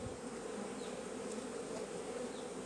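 A honeybee swarm hums steadily and densely while being hived, a continuous close buzzing drone that holds even and unbroken throughout, with no voices.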